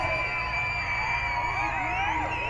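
Spectators at a tractor pull cheer and whoop loudly and steadily, a dense wall of crowd noise from the stands that holds without a break.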